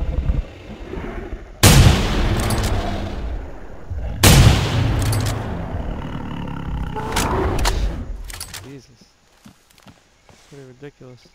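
Two loud, booming rifle shots fired at a T-Rex in the hunting game theHunter: Primal, each followed by a long rolling echo, with footsteps and movement in between.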